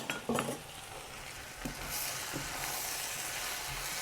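Vegetables sizzle and brown in a pan for Caribbean chicken colombo, a steady frying hiss throughout with a few stirring scrapes and clinks near the start.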